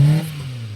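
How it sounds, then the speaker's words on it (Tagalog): A Kia Picanto with a low-power engine fault lets out a short, loud low pop, then settles into a steady idling drone, close up with no talking. "Backfire."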